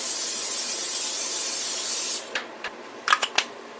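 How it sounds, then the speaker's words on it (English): Cooking spray hissing steadily into a pan for about two seconds, close and loud, followed by a few soft clicks and knocks. "I'm just going to spray this with some spray."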